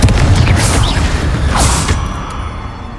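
A Confringo blasting spell goes off in the wizarding game Hogwarts Legacy, a loud, dense rumbling boom with a few swishing bursts over about three seconds, then slowly settling.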